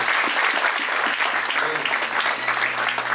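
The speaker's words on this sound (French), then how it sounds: "acclamons Dieu pour mon épouse au Laurie" A church congregation applauds in acclamation, steady dense clapping with a few low tonal sounds beneath, loud and continuous throughout.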